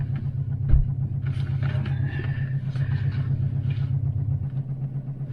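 Exmark Lazer Z X-Series 60-inch zero-turn mower with its engine running in a steady low rumble, close and continuous, with a brief thump near the start.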